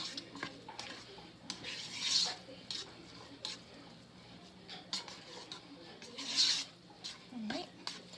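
Cilantro lime rice mixed in the non-stick pot of an Instant Pot with a wooden or plastic spatula, soft scraping and rubbing strokes in an irregular rhythm, with brief talk.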